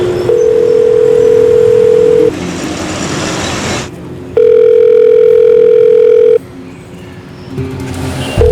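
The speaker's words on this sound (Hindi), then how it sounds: "पुलिस कमिश्नर साहब का फोन आया है, आपसे बात करना चाहते हैं।" A telephone sounds in a crime-drama scene, with loud steady tone bursts that start and stop in a repeating pattern and gaps of background noise between them. No voices are heard.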